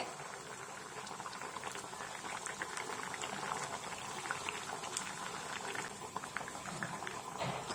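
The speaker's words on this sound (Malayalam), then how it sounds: "നമ്മുടെ മീൻകറിയുടെ അരിപ്പ് നല്ലതായിട്ട് തിളച്ചിട്ടുണ്ട്" A pot of parrotfish curry gravy boils steadily, with a dense, continuous bubbling and popping that holds at an even level throughout.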